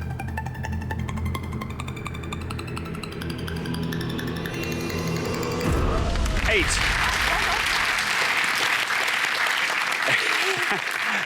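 Studio audience applause on a UK quiz show, a broad steady roar of many hands clapping that swells about halfway through, following music and talk.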